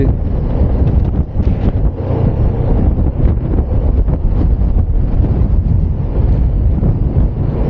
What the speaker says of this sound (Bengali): এত হাওয়া বাইককে দুলিয়ে দিচ্ছে রীতিমতো